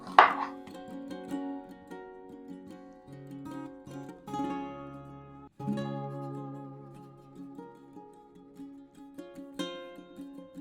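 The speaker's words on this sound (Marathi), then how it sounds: "कांदा असा उभा लांब चिरायचा" A knife chops an onion lengthwise into long strips on a board, with repeated light cuts heard under tonal background music.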